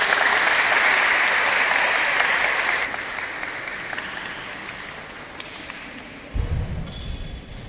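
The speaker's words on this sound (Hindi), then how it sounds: "जोरदार तालियां" Loud applause from spectators at a traditional Indian martial arts demonstration, dense clapping that fades gradually before a low thump and brief crowd noise near the end.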